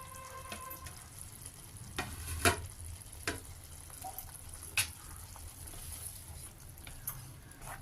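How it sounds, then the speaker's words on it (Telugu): Cooked elephant foot yam pieces go into a pan and fry with a low, steady sizzle, punctuated by a few sharp scraping or clinking stirs, close and moderately quiet. "కంద ముక్కలు కుక్ చేసిన కంద ముక్కలు కూడా వేస్తున్నానండి"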